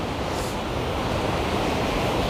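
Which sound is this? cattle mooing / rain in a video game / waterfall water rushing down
waterfall water rushing down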